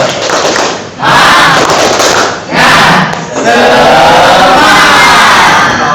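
A classroom of students performing a rhythmic group clapping chant, loud and close, with bursts of claps and shouted voices in three surging waves.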